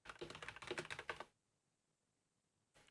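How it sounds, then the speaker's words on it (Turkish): Rapid keyboard typing, close and fairly loud, for about a second, then near silence before a brief burst of keys at the end. "bu klavyenin sesi inşallah çok fazla gelmiyordur."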